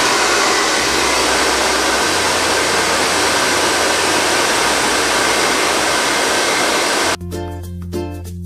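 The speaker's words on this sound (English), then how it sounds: "Mag-blower na ako ng buhok." A hair dryer blow-drying hair during a keratin blowout with argan oil, a loud, steady whooshing roar that runs continuously and then cuts off abruptly near the end, leaving quieter room sound.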